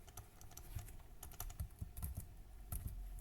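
Rapid, irregular keystrokes on a computer keyboard while text is entered into a document, close and fairly steady, with no talking.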